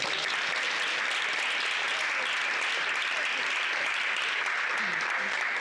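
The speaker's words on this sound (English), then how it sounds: "round of applause to them" An audience at an integration bee competition in Vienna claps steadily for several seconds, a dense and fairly close sound of many hands that holds at an even level throughout.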